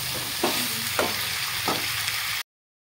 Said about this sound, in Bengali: একটু ভাজা ভাজা করে নেব সবজিগুলো।